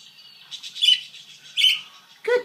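A pet bird sings in bright, warbling chirps, with three louder bursts of song rising over softer twittering, close and clear with no talk.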